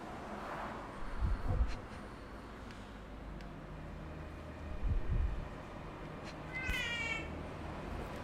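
A kitten meows several times, short soft cries spaced apart over a faint steady hum, with one higher, more drawn-out call near the end.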